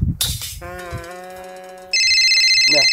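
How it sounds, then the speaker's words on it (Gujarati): After a brief bleating sound, a phone ringtone starts up nearby, a loud, steady electronic melody playing on. "આ કોનો ફોન આવ્યો"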